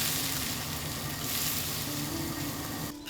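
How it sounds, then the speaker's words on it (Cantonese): Shredded leaves stir-fried in a wok until dry, with a steady, dense sizzle that stays loud and close throughout and cuts off abruptly near the end. "甲硫葉切絲剁碎，入鑊炒至脫水備用。"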